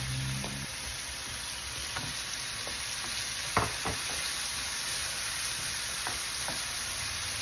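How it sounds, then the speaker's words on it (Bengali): Shrimp sautéing with a cooked-down spice masala in a pan for a bottle gourd curry, giving a steady close sizzle with a few soft clicks and scrapes of stirring, and no talk. "চিংড়ি মাছটাও এর সাথে কষিয়ে নেব।"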